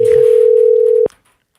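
An outgoing call on a game-show phone line gives a steady, loud single tone for about a second, then cuts off abruptly into silence.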